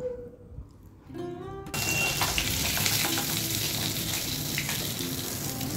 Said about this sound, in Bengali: বাকি 2 পিস আবার দিয়ে দিচ্ছি, ভেজে নেব